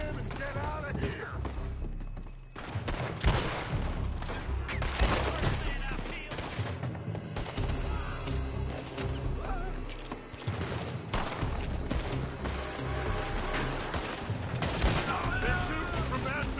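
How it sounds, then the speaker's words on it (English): Video-game gunfire from a building: steady, dense bursts of shots and impacts go on throughout, with shouted voices mixed in. "They're shooting from that building!"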